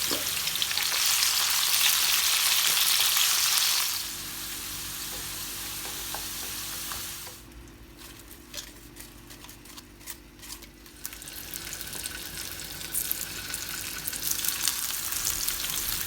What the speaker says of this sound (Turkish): Yağımız kızınca hazırladığımız patatesleri önce kızartıyoruz.